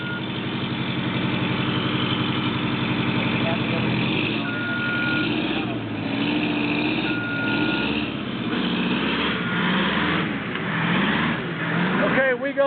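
An American LaFrance fire truck stuck in mud runs its engine with a steady rumble and rising revs as a wheel spins, while a reversing beep sounds and people talk nearby.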